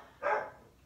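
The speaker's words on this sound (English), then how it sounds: "my dog's barking at my crazy fucking neighbor" A single short dog bark sounds indoors at moderate distance, one brief muffled woof against quiet background noise.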